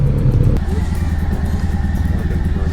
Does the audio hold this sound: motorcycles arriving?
yes